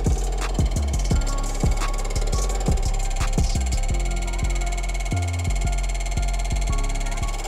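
A spinning cutter takes a 0.2 mm roughing cut while porting a Honda CB500 motorcycle cylinder head, a steady machine drone with repeated rhythmic chattering pulses, loud and close.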